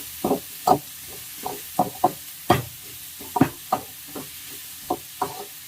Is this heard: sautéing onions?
yes